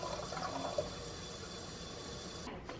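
Water poured into a Chia Zombie planter to fill it, a steady faint trickle and wash running throughout, with a small splash near the start and a brief shift toward the end.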